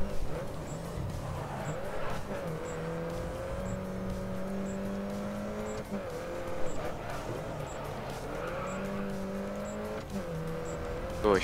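Race car engines roar continuously in the Grid Autosport Mini Cup party mode, with steady revving and gear-shift pitch changes throughout at a loud, close level.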